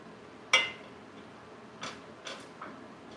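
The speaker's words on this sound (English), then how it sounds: "So I'm just gonna transfer this in this bowl for now." A few light clinks and scrapes as food is moved into a bowl: one sharp utensil knock, then several softer taps, close by in a quiet kitchen.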